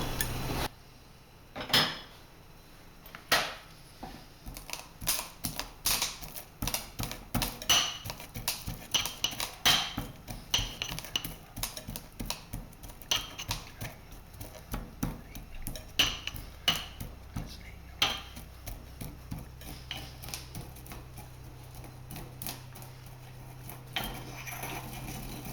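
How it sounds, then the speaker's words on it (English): Peppercorns crushed in a mortar for pasta carbonara, heard as a long run of irregular grinding knocks and clinks, close and fairly quiet, settling into a steadier low rumble toward the end. "And then I'm going to crush it in a mortar."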